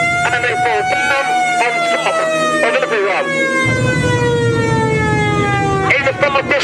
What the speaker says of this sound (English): The sound of the siren will go on for quite some time while the air raid is in progress